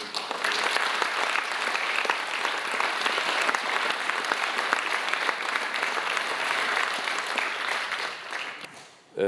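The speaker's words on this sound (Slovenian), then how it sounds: "če še to ponovite, prosim, vse za ustvarjalce in ustvarjalke" Audience applause at a preview screening of a documentary-drama war film, a sustained, fairly even round of clapping from a seated crowd lasting nearly the whole stretch, then cutting off sharply.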